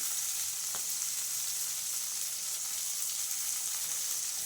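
Ginger garlic paste fries in a pan for palak paneer gravy, giving a steady, even sizzle with crackling hiss throughout and no talk.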